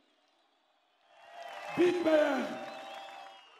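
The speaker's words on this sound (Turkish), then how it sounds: "Bu meydandan Türkiye'nin bütün emekçilerine güçlü bir alkış istiyorum." A rally crowd in an open square bursts into applause and cheering, swelling quickly from silence to a loud, broad roar that slowly fades, with a voice briefly heard over it.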